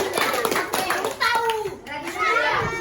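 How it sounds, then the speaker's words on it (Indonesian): A classroom of children clapping their hands, quick sharp claps close by mixed with children's voices chattering and calling out over them. "tepuk tangan"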